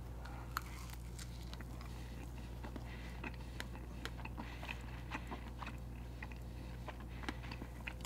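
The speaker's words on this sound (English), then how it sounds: "Sorry for the chewing sounds." Quiet close-up chewing of a bite of homemade soft pretzel in the style of Auntie Anne's, soft repeated mouth and crunch sounds in an irregular rhythm with no talking.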